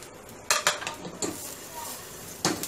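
Whole garam masala spices go into a pressure cooker for paya salan, making several sharp metallic clinks and scrapes against the pot, close and distinct, with quiet kitchen background between them.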